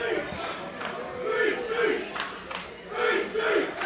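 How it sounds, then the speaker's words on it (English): Wrestling crowd in Florence, Alabama at a New South independent show, cheering and chanting for Green Street in rising and falling waves of massed voices, loud and fairly close, filling the whole stretch without a break. "This crowd cheering for the helm, cheering for Green Street."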